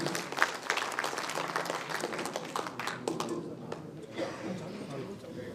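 Audience clapping for M Sadiq Khan at a BJP gathering, dense at first, then thinning and fading after a few seconds as a voice speaks over the dwindling claps.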